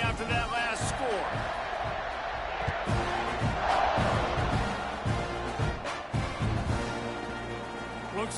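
Stadium crowd noise from the NCAA 25 college football video game, a broad steady roar with scattered cheers and thumps, running under the play-by-play commentary.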